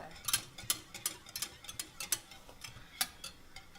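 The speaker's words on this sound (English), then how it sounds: "you're going to have your egg yolks in a bowl such as this, and you're going to start whisking on top of the double boiler" Whisk beating egg yolks in a bowl set over a double boiler for a coconut-milk custard, making a steady series of quick metallic ticks against the bowl, close and fairly faint, with no talking.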